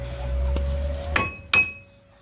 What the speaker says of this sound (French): je tapote un peu avec le marteau et le disque il sort